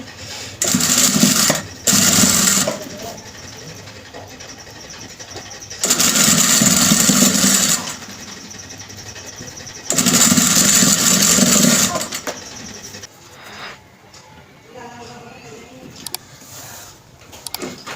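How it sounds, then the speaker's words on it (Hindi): Close, loud bursts of a sewing machine stitching fabric for a cut-and-stitched sleeve and hem design, four separate runs of whirring motor and rapid needle clatter separated by quieter gaps of handling noise. "साथ साथ इसके सिलाई लगाते जाएंगे।"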